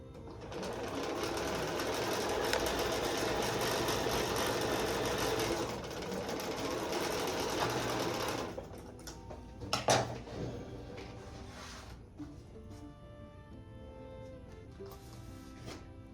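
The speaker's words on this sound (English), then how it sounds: "let me go ahead and sew this on" A sewing machine stitches quilt fabric in a loud, steady mechanical whir that runs for about eight seconds and then stops, leaving only faint handling clatter and quiet room noise.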